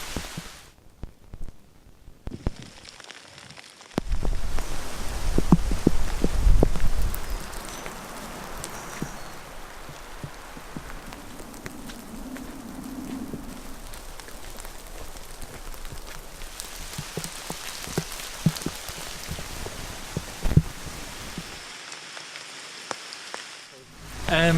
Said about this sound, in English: it's going to be raining the whole day